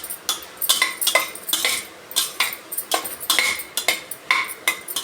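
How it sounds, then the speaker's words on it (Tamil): Chopped potatoes are sautéed in a pan, with a rhythmic series of loud metallic scrapes and clinks from a spoon against the pan and only a faint sizzle beneath. "நறுக்கி வச்ச உருளைக்கிழங்கு, கொஞ்சம் இதை வதக்கிக்குவோம்."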